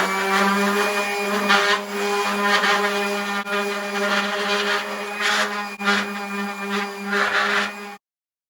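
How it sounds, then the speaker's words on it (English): A power sander works wood with 220 grit sandpaper near a door casing during a faux tin ceiling installation. A steady, close motor whine with a droning hum rises into louder rasping bursts every second or two, then stops abruptly near the end. "next I'll be sanding with 220 grit sandpaper."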